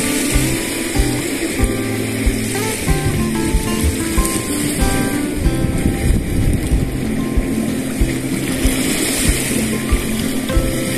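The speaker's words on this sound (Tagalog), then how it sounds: "Ang sarap sa tenga ng hampas ng alon." Ocean waves crash on a beach, a loud, continuous roar of surf with no pause throughout.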